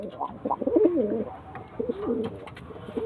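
A pigeon coos close by in a short, soft, rolling phrase repeated twice, heard alone without talk.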